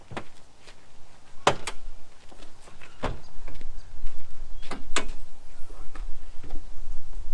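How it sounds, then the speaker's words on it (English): Sharp clicks, thumps and latch clunks come from a rigged four-wheel drive with a 1HZ motor as its bonnet is released and lifted, several distinct knocks standing out over a low background rumble. "Let's pop the bonnet."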